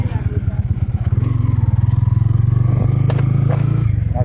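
Motorcycle engine running close by on the Palanas Bridge in Lemery, Batangas, a steady low throbbing drone that holds for several seconds under people talking nearby.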